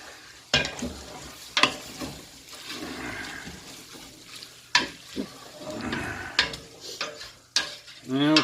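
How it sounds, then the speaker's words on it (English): Ham and beans with fresh garlic are stirred in a pot, producing repeated sharp scrapes and knocks of a utensil against the pot over a wet, bubbling simmer, close and fairly loud. "Okay, stir that up."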